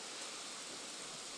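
Rain falls as a steady, faint wash of hiss with no other sound over it.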